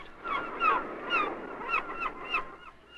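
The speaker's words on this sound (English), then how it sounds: "They tell me that gulls are the spirits of the dear departed." Gulls call in a series of harsh, squawking cries, several rising notes in quick succession, fairly close with no talking.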